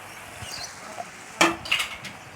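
A utensil stirs oncom being sautéed with garlic and kencur in a pan, giving a few light scrapes and clinks. Two sharper knocks come near the end over a quiet, faintly sizzling background.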